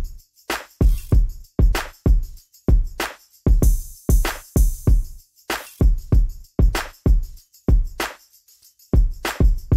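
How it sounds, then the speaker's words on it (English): A laid-back West Coast hip hop drum beat plays with hi-hat and tambourine loops over punchy kick and snare hits. The groove is loud, steady and close, with a brief drop near the end and no talking. "So the drums all together sound like this."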